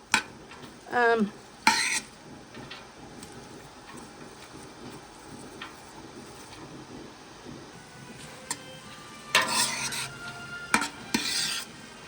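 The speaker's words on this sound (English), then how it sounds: "stir everything around. And we're just going to cook these till they're translucent." Onions cooking down in a pot for French onion soup, stirred with a utensil in a few sharp clattering bursts over a low, soft sizzle, with no talking.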